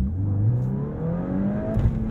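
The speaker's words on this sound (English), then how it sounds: "So into first, revving it out." A 2023 VW Golf R manual's engine revs up steadily in first gear, its pitch climbing smoothly as it accelerates, loud and close with a low droning rumble.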